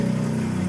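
Water pump of a portable four-compartment sink running: a steady, loud, close motor hum with a pulsing buzz, continuous throughout.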